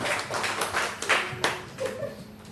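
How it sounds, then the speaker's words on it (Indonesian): A small audience claps at an Indonesian school teachers' session, scattered hand claps close by at irregular rhythm for a couple of seconds, with faint voices mixed in. "Tepuk tangan untuk Ibu Hana dan Ibu Sukma"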